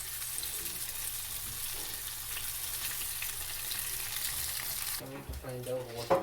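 Cauliflower frying in a pan for gobi fried rice gives a steady, close sizzle for several seconds, then a brief shift with handling clatter near the end.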